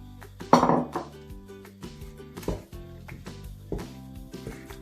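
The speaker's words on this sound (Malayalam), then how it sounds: "നന്നായിട്ട് ഇളക്കി കൊടുക്കും. ഇനിയിപ്പോൾ നന്നായിട്ട് ഇളക്കിക്കൊണ്ടിരിക്കണം." Milk and 200 grams of milk powder are stirred in a pan on the flame for milk peda. A spoon knocks and scrapes against the pan in irregular clanks, with one sharp louder clatter early on.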